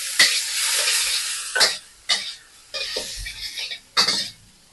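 About a teaspoon of soy sauce poured onto browned aromatics in a hot pan for braised abalone yee mee, sharp sizzling bursts repeating in separate surges with brief quiet gaps, close and loud.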